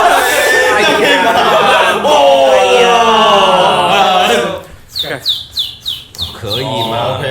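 At a beatbox sound-imitation contest, a performer's voice mimics a sparrow with a quick series of short, high chirps, following loud overlapping talk and laughter.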